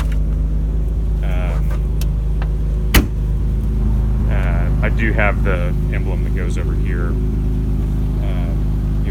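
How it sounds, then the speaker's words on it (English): A 1977 BMW 630CSi engine idles with a low, steady hum while someone talks over it; a single sharp click stands out briefly. "Idle's nice. You can hear that it's just purring along."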